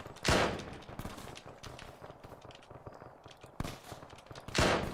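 Gunfire from AI soldiers in the video game Arma 3 pins the player down, with rapid sharp overlapping shots and loud bursts near the start and end, all dense and close.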